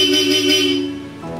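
A Bosch Europa car horn fitted to a Ford Ranger, wired with a relay and fuse, gives one short, loud, close blast with a steady tone that fades out after about a second.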